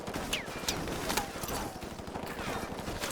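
Kalashnikov rifle fire in Modern Warfare Remastered, a handful of sharp shots spaced across a dense, steady background of distant gunfire, with no talking.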